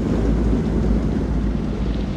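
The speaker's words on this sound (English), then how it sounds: "Find out how long the storm is gonna last." Stormy ambience from the Man of Medan video game: a steady, loud low rumble of wind and rain with thunder rolling continuously underneath, no distinct claps, with no speech.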